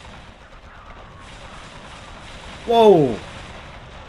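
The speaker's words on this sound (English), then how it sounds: "Oh, the missile launcher is quite potent," A missile launcher fires in a Warhammer 40K game mod, a single loud burst with a whooshing sweep lasting under a second over low battle rumble, with a brief exclaimed voice.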